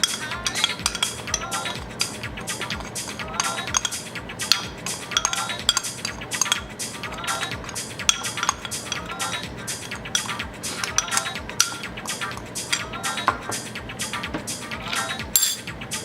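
Chilli powder and citric acid seasoning mixed in a bowl, a spoon or fork clinking and scraping against the sides in a fast, continuous rhythm for about sixteen seconds, close and alone without talk.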